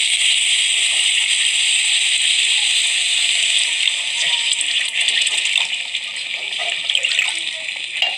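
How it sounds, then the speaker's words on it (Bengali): Half a mug of water pours steadily into a cooking pot on low heat for mustard hilsa fish curry, a continuous bright splashing stream that slightly changes tone as it fills. "হাফ মগ পানি দিয়ে দিব।"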